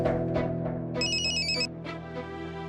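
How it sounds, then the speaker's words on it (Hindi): A phone ringtone plays a short electronic melody, a bright beeping phrase over background music, with the ringing tone rising clearly for about half a second before fading back into the score. "फोन मत उठाइए"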